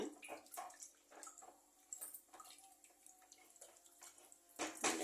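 Water splashes and pours into a pot of mutton curry close by, with a steady watery rush and a few drips, ending in a louder splash.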